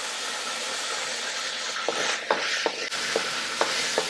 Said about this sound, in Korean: 조금만 식용유 조금만 이렇게 이 마늘이 타지 않을 정도만 이렇게 볶으세요